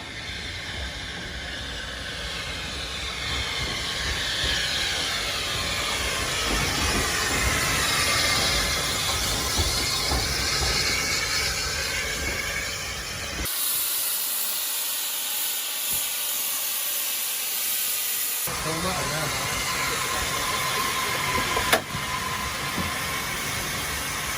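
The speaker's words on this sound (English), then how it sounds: "We headed it off and we got a lovely view of this steam train" Steam train on a heritage railway at Bolton Abbey station, hissing and chuffing steadily and loudly nearby, with a continuous broadband rush of steam that swells and briefly drops away before resuming.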